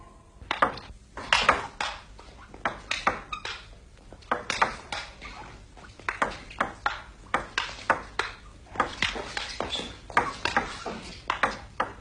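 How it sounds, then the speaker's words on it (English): A ping pong game recorded in stereo: the ball clicks crisply off paddles and table in a quick, irregular back-and-forth rally of many hits, with short pauses between points and no voices. "you can witness a thrilling game of ping pong"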